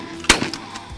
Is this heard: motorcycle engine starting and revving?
no